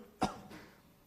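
A man imitates a coughing snake with one sharp, harsh cough that trails off into a softer breathy tail, close and alone.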